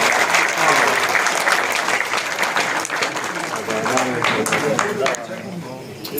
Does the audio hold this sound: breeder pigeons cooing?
no